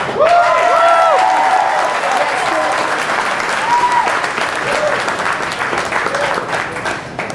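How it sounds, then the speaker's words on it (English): An audience at a comedy contest final claps warmly for comedian Stan Silliman, a dense, steady wave of applause that is loud at first and slowly thins, with a voice speaking over it early on. "Give yourselves a round of applause for coming. Hands together for Stan Silliman."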